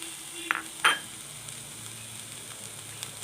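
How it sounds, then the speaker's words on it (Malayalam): Cooked toor dal goes into a frying pan of vegetables, giving a soft steady sizzle with two brief scraping clinks of a spoon early on, then quiet frying continuing alone. "ഇതിലേക്ക് വേവിച്ച് വെച്ചിരിക്കുന്ന തോരപ്പരിപ്പ് ഇട്ട് കൊടുക്കുക"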